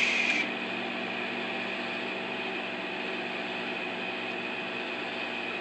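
A microwave oven runs with marshmallows inside, a steady low hum and whir after a brief louder start, constant and close with no talking.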